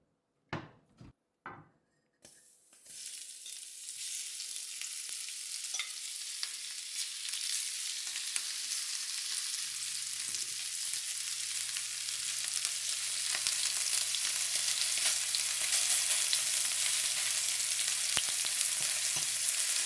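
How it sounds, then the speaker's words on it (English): Scallops hitting hot oil in a pan for a Cantonese chow mein, a few knocks and clatters at first, then a loud, steady, close sizzle that holds for the rest, with a low hum joining later. "Just pan fry them on both sides"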